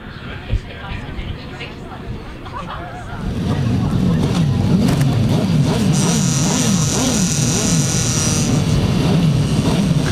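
Grasstrack sidecar motorcycles rev together at the start line, a loud multi-engine snarl that swells after a few seconds of quieter crowd and a commentator's voice.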